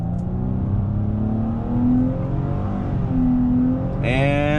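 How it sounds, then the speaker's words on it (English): A 2019 Nissan Maxima Platinum accelerates hard from a standstill after brake torquing, its engine note climbing steadily through the revs, loud and close, then shifting up near the end. "you just lay into this thing, because it will just throw itself way up there in the RPMs."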